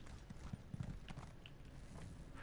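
Faint hoof clip-clops from the Flame Astronaut horse in the Elder Scrolls Online video game, a few soft irregular thuds early on beneath a steady low background hum.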